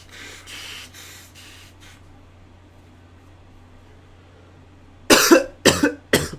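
Someone blows their nose up close in a quiet room with a low hum: three forceful, breathy bursts in quick succession, each louder than the soft sounds before.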